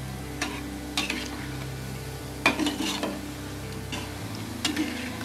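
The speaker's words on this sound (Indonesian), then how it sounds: "Kita goreng hingga berwarna kecoklatan." Cassava balls sizzle steadily in hot oil while a utensil scrapes and taps against the pan every second or so, close and moderately loud.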